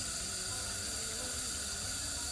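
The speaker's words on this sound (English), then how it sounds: "So now I'm finally getting a chance to water in." A steady, close hiss of water sprays from a hose onto container plants in a small fall yard, continuous and even throughout, with no talking.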